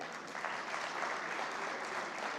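Attendees at the Asia Economic Dialogue 2025 inaugural session give a round of applause, a steady crowd clapping heard at a fairly low, somewhat distant level throughout, without talk.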